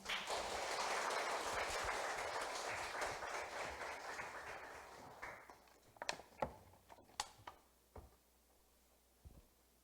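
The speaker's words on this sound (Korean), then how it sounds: "그럼 김신한 PD님을 큰 박수로 맞이하겠습니다." An audience at a parents' academy lecture hall claps in warm, dense applause to welcome a speaker, then it thins into a few scattered final claps.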